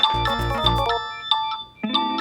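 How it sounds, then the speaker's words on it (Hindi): A short electronic mobile phone ringtone plays a bright melodic pattern, pauses briefly, then starts again, clear and close. "ये ले, बड़ा बज रहा है मेरा फोन।"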